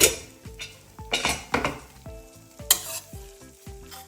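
A pressure cooker of cooked horse gram being opened: a series of sharp, close metallic clanks and clinks of the lid and pot, with brief ringing after each knock and no speech.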